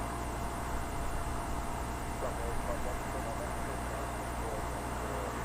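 A Bulgaria Air Airbus A220-100 jet arriving from Sofia at London Heathrow, its engine noise a steady, distant broadband roar that holds evenly throughout.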